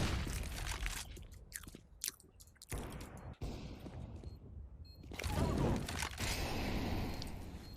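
Crunching bites into a Prince Polo chocolate wafer bar, loud close crackles repeating in bursts over several seconds, with faint talk and room noise between.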